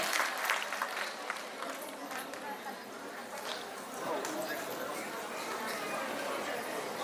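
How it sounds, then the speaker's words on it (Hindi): Loud applause from the crowd at a state-level conclave for LIC Bima Sakhi women, a dense, continuous patter of clapping that lasts throughout, with a voice speaking over it. "आप सबकी जोरदार तालियां होना चाहिए।"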